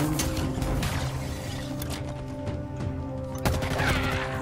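Rapid gunfire from the Halo Infinite video game rattles continuously over a dense, busy game mix of music and effects, with a sharper burst near the end.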